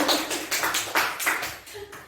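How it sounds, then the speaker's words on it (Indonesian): A small group claps at a school teachers' training session, giving a brief burst of uneven, fairly quiet hand claps in a room. "Tepuk tangan dong."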